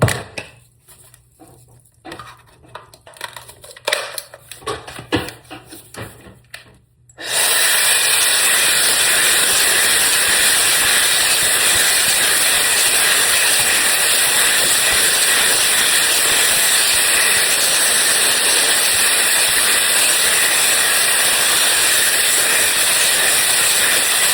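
A Conair DigitalAIRE hair drying wand fitted with a volumizing smoothing brush head blows with a loud, steady hiss of rushing air that starts abruptly after several seconds of quieter handling sounds and runs continuously.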